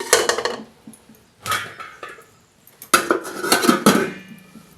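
Metal idiyappam plates stacked into a pressure cooker, three bursts of clattering, clinking metal against metal with short pauses between, close and fairly loud.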